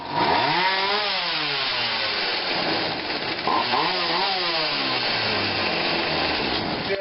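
A Craftsman 16-inch chainsaw made by Poulan, its small two-stroke engine running steadily and loud, pitch rising and falling as the throttle is blipped a couple of times, with no voices.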